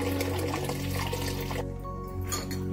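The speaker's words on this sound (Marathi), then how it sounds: "चला हे पाणी टाकून घेणार आहे वरचं सगळं काढून" Sour soaking water being poured off ground rice batter, a steady liquid pour with tonal hum beneath, close and continuous, easing briefly near the end.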